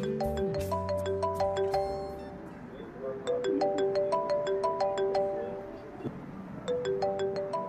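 A melodic phone ringtone plays repeatedly, its bright chiming tones looping loudly, with a short pause midway.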